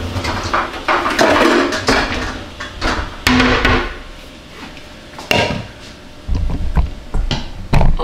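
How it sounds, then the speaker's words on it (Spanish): A knife chopping onion and tomato on a board, irregular clusters of knocking cuts with brief lulls, loud and close. "picar la cebolla y el tomate"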